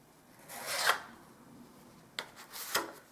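Filler knife scraping filler onto a wall around an electrical socket, with two separate bursts of rasping strokes and a short scrape between them, close and fairly quiet.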